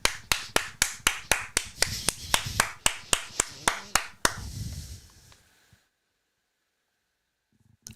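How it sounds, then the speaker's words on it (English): A single person's hands clap along in a quick, steady rhythm, about sixteen sharp close claps, during a reaction to a Phillies end-of-season press conference, then stop abruptly, leaving near silence. "I'm clapping along there"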